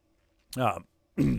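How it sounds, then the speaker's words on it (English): Two short, rough throat clearings close to the microphone, separated by a brief silent pause, in an otherwise quiet room. "I had to pause a second there to try and clear my throat."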